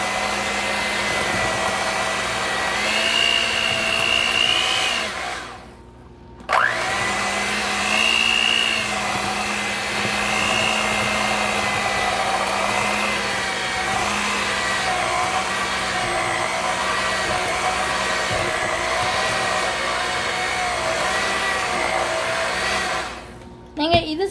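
An electric mixer beating dark chocolate cake batter with boiling water and milk added, a loud, steady motor whine that drops out briefly midway and again near the end, with no talking.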